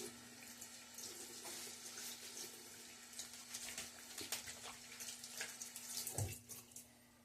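Tap water runs steadily into a sink for rinsing during a wet shave with a Gillette Nacet blade, a continuous broadband rush that swells slightly near the end, alone without voices.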